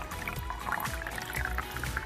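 Red food coloring poured into hot water for a convection currents demonstration, a short close trickling and splashing pour with light liquid burbles, heard alone.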